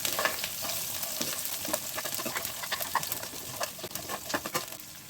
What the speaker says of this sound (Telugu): మనం కొంచెం స్టవ్ ఉంచి వేయించుకోవాలి.